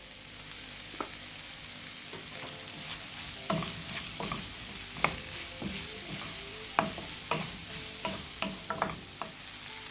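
Vermicelli pulao fries in a pan with salt and turmeric, giving a low, steady sizzle and repeated sharp scrapes and taps of a spoon stirring, close by and fairly quiet.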